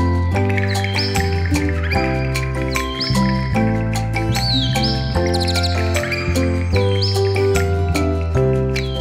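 Quick bird chirps and tweets sound over a steady, gentle children's lullaby with sung melody and instrumental accompaniment, recurring every few seconds throughout.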